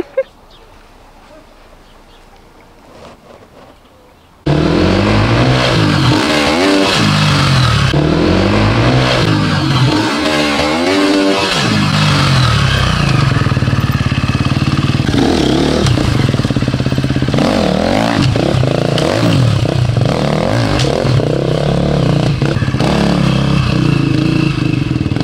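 After a few quiet seconds, a 2024 GasGas EC 350F enduro motorcycle engine bursts to life nearby and revs loudly and repeatedly, rising and falling in pitch, then keeps idling roughly.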